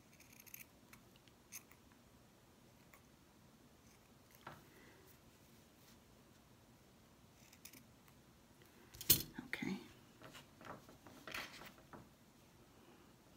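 Scissors snip through felt while making a craft hen, giving scattered faint close clicks and cuts with a louder burst of snipping and rustling near the end, without speech.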